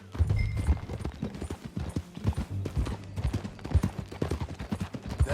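Horse hooves clip-clop in a steady, close rhythm through a western ride in Red Dead Redemption 2, the beats standing out clearly over a low background with no talk.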